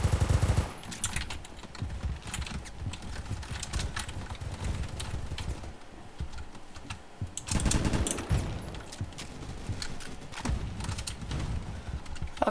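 Rapid gunfire in a Roblox first-person shooter game, dense bursts of shots running almost continuously with louder volleys near the start and again partway through, no talking.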